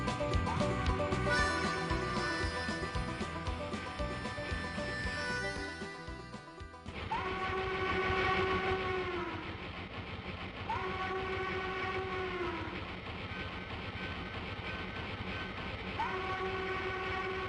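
A train rolls past with strong clanking and rail noise, while a horn blows repeated long, steady blasts that rise and fall in regular intervals over the steady rumble.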